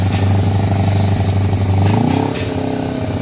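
Kawasaki Ninja 250R carbureted motorcycle engine, loud and close, holds a steady idle drone, then revs up with a rising pitch as the throttle opens and settles into a higher, rougher running note.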